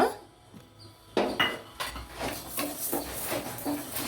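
Flax seeds dry-fry in a pan for a dry fruits powder, heard as clattering metal scrapes and a rustling crackle of stirred seeds after a quiet opening.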